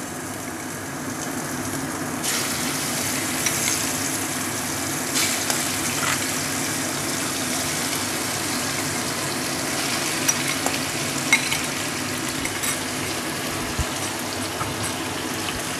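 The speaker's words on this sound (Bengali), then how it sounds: "গ্যাসের ফ্লেমটা লো করে দিয়ে আমি ধীরে ধীরে চিংড়ি মাছগুলো তেলে ছেড়ে দেব।" Prawns slipped a few at a time into well-heated oil over a low gas flame, for a Bengali shola kochu and prawn dish, give off a steady, even frying hiss with no voices.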